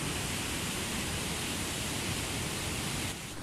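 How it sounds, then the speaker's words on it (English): The Beas river near Kalath in Manali rushes steadily, a dense, loud, unbroken roar of flowing water with no talk. "You can hear the sound of Beas river."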